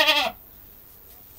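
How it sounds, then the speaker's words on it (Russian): A young goat kid, a Czech and Alpine breed cross, lets out a single short bleat close by, lasting about a quarter second before the clip falls to quiet background. "Вот он, козлик."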